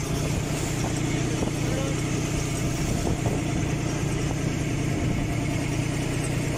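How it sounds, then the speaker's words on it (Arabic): Steady mid-pitched diesel drone of a trawling fishing boat's engine at sea, continuous and unbroken at an even level, with faint wind and water wash around it. "ده مركب بيصطاد جره يا جماعه."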